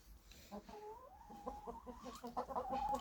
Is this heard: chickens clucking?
yes